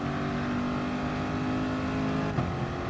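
A Chevrolet Corvette C7 race car in Gran Turismo Sport, its engine droning loud and steady at high revs with a brief shift or blip near the end.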